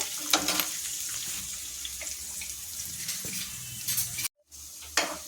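Garlic, dried red chillies and curry leaves fry in hot oil for a sorrel leaf curry, giving a steady close sizzle with watery hiss, a few small clinks and a brief silent gap near the end.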